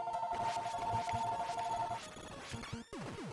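A telephone rings with a steady repeating bell tone, partly buried in loud, cluttered retro game sounds.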